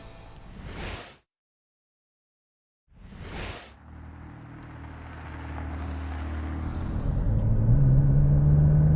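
Two brief whooshes pass, then a 2020 McLaren 540C's 3.8-litre turbocharged V8 builds from a low rumble into a swelling, rising roar as it accelerates.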